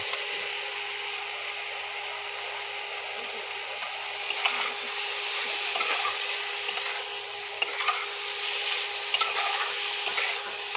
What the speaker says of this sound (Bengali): এবার এটাকে কষিয়ে নেব।